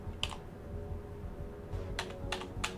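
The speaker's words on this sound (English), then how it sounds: "I can find the keys on the keyboard to type it" Keys clacking on a computer keyboard in short scattered bursts, a few quick taps then a pause and a cluster of several more, moderately close over a steady low background hum.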